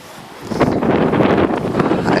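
Wind blowing outdoors beside a hazelnut grove and pool rushes in a loud, steady gust that buffets the microphone and swells after a quieter start.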